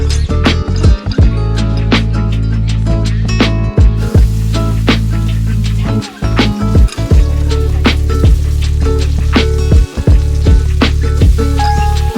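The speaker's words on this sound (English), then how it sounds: "I'm gonna cook my steak" Steak frying in a pan at home, a steady loud sizzle throughout with scattered sharp crackles and pops, close by.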